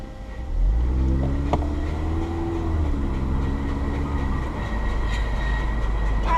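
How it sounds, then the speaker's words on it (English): The long-unused right brake of a 2014 Scion tC squeals as the car rolls on its first drive after rebuilding. A wavering, tonal moan that resembles a train whistle sits over a deep engine rumble for several seconds, with no voices. "we got a problem with our right brake. He sounds like a choo-choo train"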